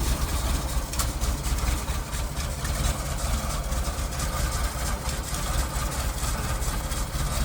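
A 1964 Amphicar 770 convertible engine idles smoothly and steadily nearby, a continuous low, even rumble with a faint ticking texture and no talk over it.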